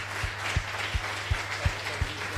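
Church congregation clapping during a worship service, a steady pulse of hand claps at about two per second with a low sustained hum beneath, moderately close and without voices.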